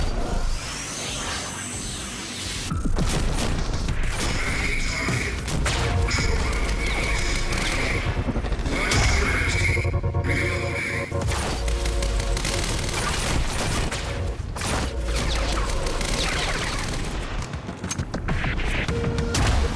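Gunfire and chaotic combat in the video game Quantum Break crackle and boom nearly continuously, loud and dense with crashes and impacts layered over game music and effects.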